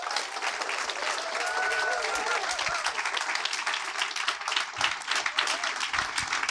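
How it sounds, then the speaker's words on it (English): Dense applause from a large conference audience after a talk, continuous clapping with a few voices rising under it. "So can we give a huge round of applause to Sean Tillman, please?"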